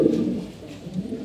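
Pigeons coo softly in a loft, low throaty calls repeating in a gentle, uneven rhythm close by, with no talk.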